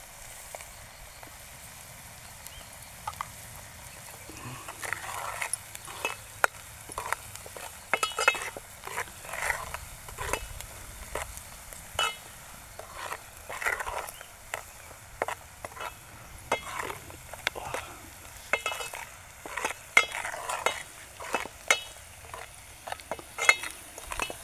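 Onion frying in a pan with a little salt, a soft sizzle under repeated scraping and clinking from a stirring spoon, steady and close for a long stretch.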